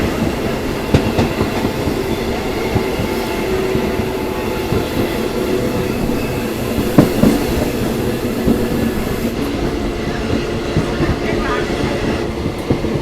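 A local train rumbles steadily along the tracks between Bangarapet and Kolar at about 45 km/h, with a continuous low roar and faint rhythmic clatter, close and loud throughout, with brief metallic squeaks.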